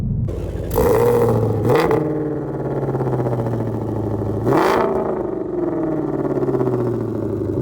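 A 2020 Shelby GT500's V8 exhaust rumbles at idle, then roars through two sharp revs a few seconds apart, loud and close.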